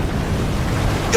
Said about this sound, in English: The water is coming.